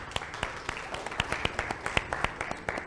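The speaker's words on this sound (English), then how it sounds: "A round of applause for Pasha." Audience applause at a panel discussion on cloud banking, a run of sharp distinct claps repeating at a steady pace, moderately close, with no talk over it.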